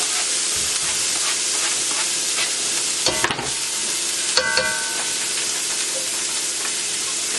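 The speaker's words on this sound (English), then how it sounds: "now I will add my mixed vegetables in here, as well as the minced garlic" Mixed vegetables and minced garlic sizzling in a hot pan for cauliflower fried rice, a loud, steady frying hiss with a couple of sharper scraping stirs partway through.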